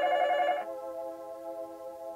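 A telephone rings in a 1988 Halloween horror cassette drama, with one loud electronic ring burst that cuts to a softer sustained tone, standing alone with no voices.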